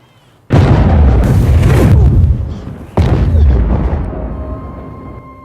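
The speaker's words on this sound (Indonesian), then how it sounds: "fasilitas penelitian mengalami ledakan besar yang menewaskan semua ilmuwan terpintar yang kita miliki" A massive explosion tears through a research facility in a science-fiction film, a loud sustained blast followed by a second heavy boom that rumbles and slowly fades into a ringing tail.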